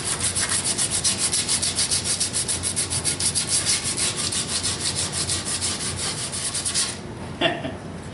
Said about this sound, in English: I'm going to start off with some 60 grit and just go to town.